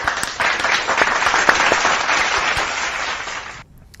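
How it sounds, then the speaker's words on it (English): Short burst of applause, a dense close-up patter of clapping hands from a small group that runs steadily for a few seconds and then cuts off abruptly. "we forgot to give a hand of applause to all the viewers"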